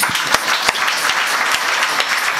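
A crowd at a kirtan gathering during an Akhand Harinam Saptah week claps in steady, sustained applause for the sound system operator, dense and fairly near, with a few sharper individual claps standing out.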